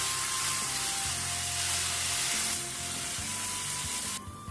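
Tomato sauce with mushrooms and lentils being stirred in a pan for a vegan spaghetti bolognese, a steady close sizzle with soft scraping under a faint hum, then quieter near the end.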